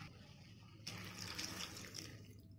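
Water pours briefly into a pan of Chettinad-style prawn curry, a soft splashing trickle that starts abruptly and runs for about two seconds over a quiet background.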